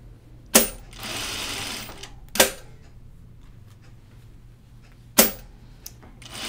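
A sewing machine stitches a seam on a caftan in short runs, each opening with a sharp mechanical clack followed by a brief whirring burst, with quiet pauses between and a low steady hum beneath.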